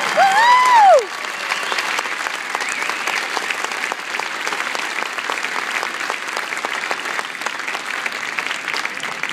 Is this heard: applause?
yes